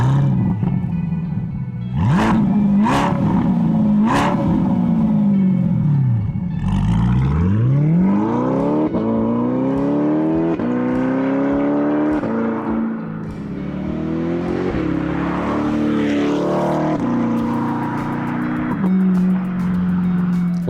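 A C8 Corvette's exhaust revs hard and close, with several sharp throttle blips followed by a long sweeping climb and fall of engine pitch and sustained loud roaring revs.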